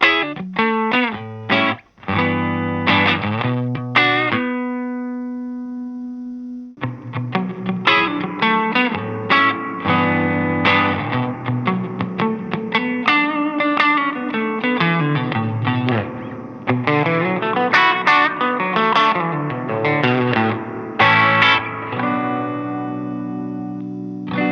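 An electric guitar plays chords and melodic lines through an Anasounds spring reverb pedal on a fairly traditional setting, the notes ringing out with a splashy, lingering spring tail between phrases.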